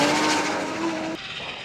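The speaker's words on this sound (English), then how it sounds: "Both cars launch." Muscle cars launching side by side at a no-prep drag race, a loud roaring engine burst with squealing tires that cuts off abruptly, leaving a quieter engine drone.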